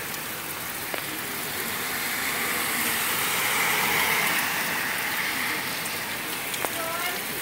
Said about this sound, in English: There's water dripping from my roof.